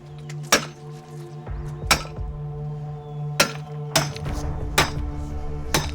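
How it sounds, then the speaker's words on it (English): A hammer striking a jade boulder to crack it open: about seven sharp, ringing metallic hits at irregular intervals, each with a short bright decay, against a low steady hum with no talk. "Who's breaking this baby?"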